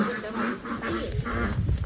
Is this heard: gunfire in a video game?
no